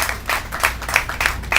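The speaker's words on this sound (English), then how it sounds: "Another round of applause to our guest of honor." A small audience claps for the guest of honor at a story book box workshop, a sparse group of hands patting in uneven bursts, fairly close and clear, with no voices over it.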